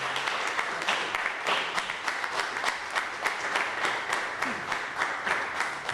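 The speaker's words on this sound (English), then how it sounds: "let's give them a round of applause for the work they did" Audience applause at a press conference for an Eagle Scout project with the Avenel Fire Department, steady dense clapping sustained for about six seconds with no voices over it.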